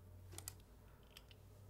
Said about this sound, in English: this is what this keyboard sounds like without any kind of modding